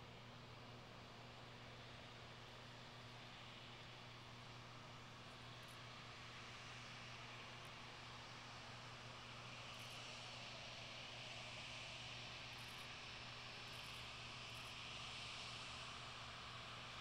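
An airliner taking off from runway 9 at Miami International Airport: a steady, broad engine roar that stays loud and fairly constant throughout, with a faint low hum underneath.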